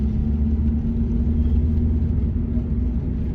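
A car with DIY four-wheel steering and no rear sway bar rolls along at about 20 mph on a test drive, giving a steady low engine and road rumble that stays even and unbroken, with no talking.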